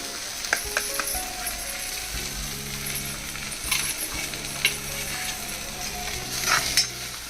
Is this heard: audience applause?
no